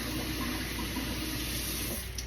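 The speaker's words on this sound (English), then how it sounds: "And I add some water to this measuring cup" Tap water pours steadily into a measuring cup of uncooked white rice, with a loud, close, continuous splashing rush throughout.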